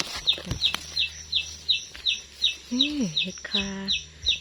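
Chickens clucking in a backyard in rural northeastern Thailand, a few low clucks in the middle of the stretch, under a steady series of high repeated bird chirps, with a person talking nearby.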